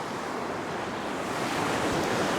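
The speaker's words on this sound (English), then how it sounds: "There's some big waves coming out the back" Big ocean waves break and roll onto a beach in a steady, loud roar of surf, with some wind noise mixed in throughout.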